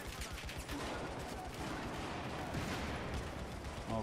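Dense, continuous gunfire from Battlefield 4 on PS4, with rapid overlapping shots and bursts forming a constant barrage, no pauses throughout.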